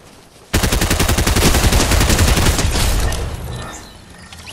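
Loud, close automatic gunfire in Fortnite starts abruptly and hammers out a fast, steady stream of shots for about three seconds before fading away.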